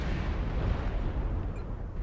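Missile explosion in MechWarrior Online hitting an Atlas AS7-S mech: a short, heavy, rumbling blast that fills the clip with dense low noise and fades slightly at the end.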